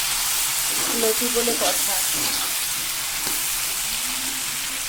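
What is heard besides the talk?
black cumin and lotir frying in hot oil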